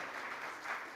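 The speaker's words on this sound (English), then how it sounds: "A lot of applause are needed from them." Brief burst of audience applause at an industry association gathering, a dense steady patter of many hands clapping for about a second.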